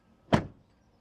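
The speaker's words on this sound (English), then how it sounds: "the door closing sounds, we forgot that." The door of an all-new BMW iX3 electric SUV shuts with one soft, muffled thunk that fades quickly into quiet.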